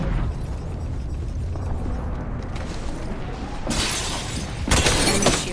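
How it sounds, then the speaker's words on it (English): An enemy's shield shatters in a shooter video game: two bright crashing bursts of breaking noise, close and loud, over a busy background of combat sound. "Enemy shield broken."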